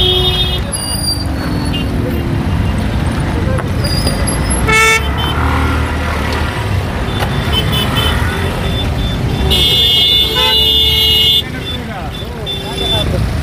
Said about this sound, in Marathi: ट्रॅफिक जाम झालं